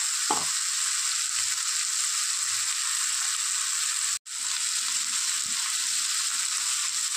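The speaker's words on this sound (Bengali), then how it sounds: "আদা রসুন পেঁয়াজ টমেটো দিয়ে খুব ভালো করে কষিয়ে নিয়েছি।" Ginger, garlic, onion and tomato masala fries in a pan with a steady, close hiss of sizzling, broken by one brief dropout partway through.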